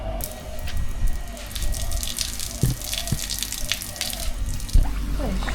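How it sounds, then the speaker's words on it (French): Water splashes and runs steadily as people rinse off using pool water instead of a broken shower in Bali, close and continuous with dripping and small splashes, faint voices in the background. "Du coup, bah, on va se rincer dans la piscine."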